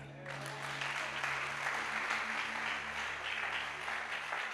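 A church congregation bursts into sustained applause, a dense wash of clapping that fills the room and rises and holds steady, with a low murmur of voices beneath it.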